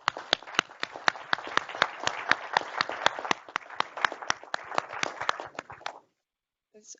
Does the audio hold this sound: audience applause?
yes